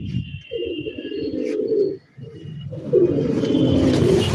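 Domestic pigeons of native breeds cooing in a loft, with low, rolling throaty coos in two long bursts separated by a brief pause, close and fairly loud, while a few faint high chirps sound in the background.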